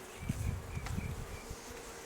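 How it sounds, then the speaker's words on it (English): Honey bees clustered in a spring hive box give a close, steady buzzing drone with fluctuating hums and faint wingbeats, alone without talk. "I have a cluster of bees just in the middle of the box here"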